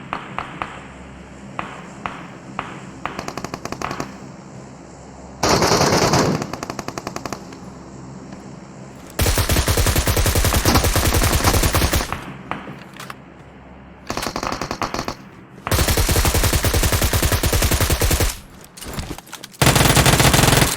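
PUBG Mobile gunfire, loud bursts of automatic rifle fire in several long sustained volleys, separated by quieter stretches with a few scattered single shots.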